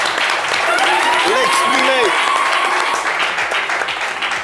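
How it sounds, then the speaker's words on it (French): Studio audience applause for an Ivorian rapper on a radio show, a steady loud wash of clapping lasting throughout, with faint talk and tonal sounds mixed underneath. "on va encore t'applaudir"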